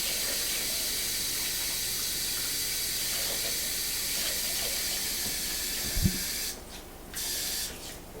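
Water pours in a steady hiss into a pressure cooker for soup with bones, continuous and fairly loud, then breaks off and resumes briefly near the end.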